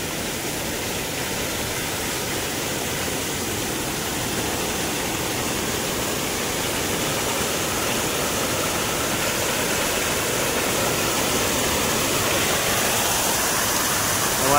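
Floodwater pouring over an earthen field bund and rushing across a washed-out village road during torrential monsoon rain, a loud, steady broadband roar that holds unbroken throughout.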